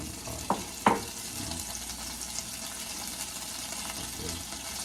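Butter sizzles in a hot pot, a steady frying hiss with two sharp clunks near the start as spoonfuls drop in.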